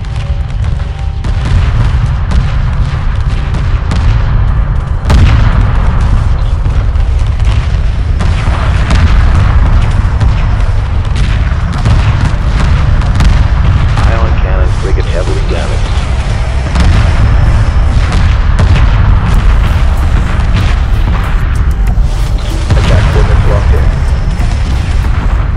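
Continuous space combat from the Homeworld 2 Remastered strategy game, with heavy booming explosions and weapons fire filling the whole stretch, loud and dense throughout, while radio-style unit voice reports play over it.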